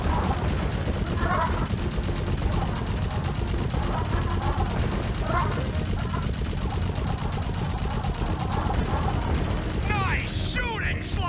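Rapid, continuous gunfire from a turret fills the Sly Cooper video game, with dense mechanical bursts and chirpy game effects under a steady, loud background and voices speaking over it.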